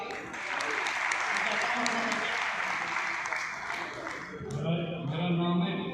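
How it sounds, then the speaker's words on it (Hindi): A crowd at a Kesariya Hindu Vahini event in Jammu bursts into sustained, loud applause welcoming guests, steady clapping filling the whole stretch with a slight swell near the end. "तो इनके लिए स्वागत के लिए ताली"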